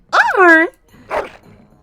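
A hound in the video game Dragon Age Origins gives a short whining yelp with rising and falling harmonics, then a softer second bark-like sound, close and clear.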